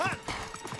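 Horse hooves clip-clopping at a steady rhythm as someone rides in the video game Uncharted 3, with a short whinny at the start and a voice talking over it.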